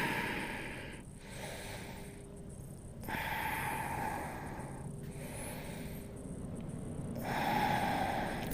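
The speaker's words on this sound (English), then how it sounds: "drop the head and breathe" During a hip and hamstring yoga stretch, a person takes slow, deep breaths close to the microphone, with long airy inhales and exhales alternating in a steady rhythm.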